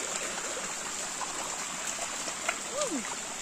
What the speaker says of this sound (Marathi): पर्याचं पाणी इथून असं वाटेवरती येते